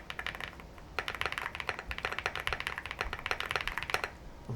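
Rapid typing on an Evo75 mechanical keyboard fitted with new keycaps, a dense close-up run of crisp clacky keystrokes with a few brief pauses and no talking.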